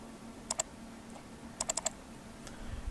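A computer keyboard being typed on, with two quick clicks followed shortly by a run of four crisp keystrokes, fairly close over a low steady hum, with no one talking.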